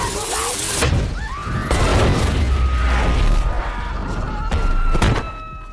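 A device blows up in a film scene: a loud, sustained booming blast with crashing, shattering debris, several sharp bangs in the mix, holding steady before easing off near the end.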